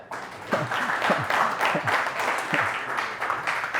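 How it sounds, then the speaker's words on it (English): Business-seminar attendees at an AI workshop give a round of applause, a moderate wash of many hands clapping at a middle distance, with a voice talking faintly underneath. "Give him a big round of applause for actually doing the work."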